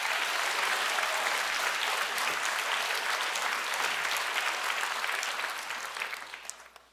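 A church congregation claps together at a pastor's call during a Korean sermon, steady dense applause filling the space and tapering off toward the end, with no talking over it.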